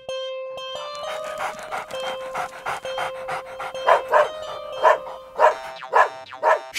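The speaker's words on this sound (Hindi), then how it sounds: "क्यों भौंक रहे हो?" A dog pants and barks in a quick rhythmic series of bursts, growing louder and more emphatic toward the end, close and alone.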